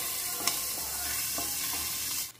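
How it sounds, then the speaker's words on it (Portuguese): Half a medium onion and garlic sautéing in olive oil in a pan, producing a dense, even sizzle with a couple of stirring scrapes, close, no voices, cutting off abruptly at the end. "Olha, aqui eu tenho cebola e alho. É, tem mais ou menos meia cebola. Cebola média. Vamos dar uma refogadinha."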